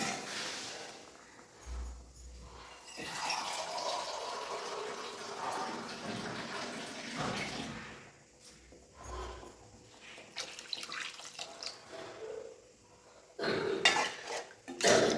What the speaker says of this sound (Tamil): தேவையான அளவு தண்ணி சேர்த்துக்கலாம் நான் இன்றைக்கி ரெண்டு கப் அளவு சேர்க்குறேன்